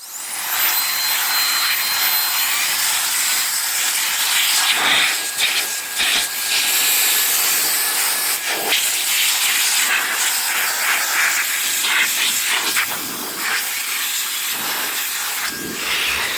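Compressed air blasts steadily through the intake of a dirty PC power supply, a loud, continuous close-up hiss with brief dips where the stream pauses, no voices present.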